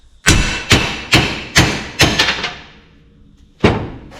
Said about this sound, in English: Put the vise just wide enough so that the ball joint will fall through, and give it a couple of taps.